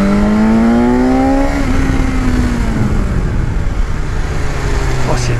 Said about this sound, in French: Ce shifter il est efficace là, on redescend en trois rapports d'un coup sans toucher l'embrayage